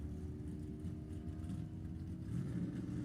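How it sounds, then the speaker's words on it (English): A Hemi-powered drag racing car launches off the line at an NHRA drag racing event, a steady low engine roar heard from a distance that swells slightly near the end, with no voices. "And the Hemi takes off."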